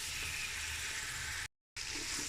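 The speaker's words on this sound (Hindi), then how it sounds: "टमाटोज़ को मैं इसके साथ 2 से 3 मिनट जो है वो फ्राई करती हूँ" Tomatoes frying in a pan for chickpea pulao, a loud steady sizzle and crackle throughout, briefly cut to silence before resuming.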